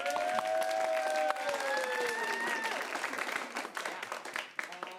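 An improv comedy audience applauds for a first-half winner, a dense, loud wash of clapping with cheering voices over it, fading toward the end.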